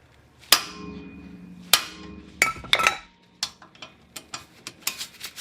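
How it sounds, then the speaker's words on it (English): Sharp metallic clanks of a sledgehammer striking a front brake rotor on a 1999 Acura RL, several heavy ringing blows at first, then a quicker series of lighter taps and knocks. "Then with the sledgehammer"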